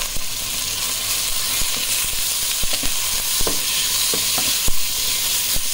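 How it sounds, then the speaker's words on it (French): Loud, steady sizzle of beef searing in hot oil, with scattered sharp crackles and pops throughout. "dans une autre poêle, j'ai mis de l'huile à chauffer pour faire bien sauter le bœuf"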